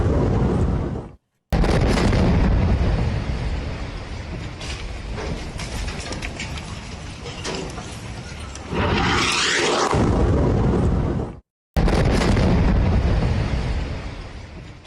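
Bomb blasts from an Israeli airstrike on Beirut's southern district land one after another, a dense, loud roar of booms and rumbling debris filling the whole stretch, broken by two brief cuts.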